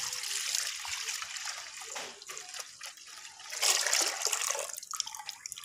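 About two to two and a half kilos of milk pours steadily into a pot for Peshawari Qissa Khwani kheer, a close, continuous splashing gush that swells and eases.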